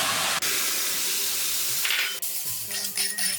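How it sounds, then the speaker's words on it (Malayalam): Strained tamarind juice is poured into roasted ginger in a hot pan, starting with a loud, bright hissing rush that gradually settles into a softer bubbling sizzle with small spattering pops. "അത് ഇതിലേക്ക് ഒഴിച്ചു കൊടുക്കാം"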